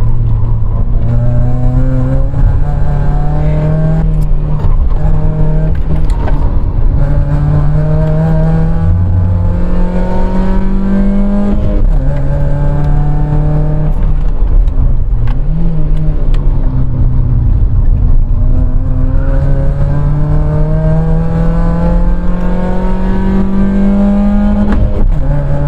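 A rusty Opel Corsa race car revs loudly and continuously while driving on a track, its engine pitch climbing and dropping repeatedly through gear changes, close and unbroken, with no talking.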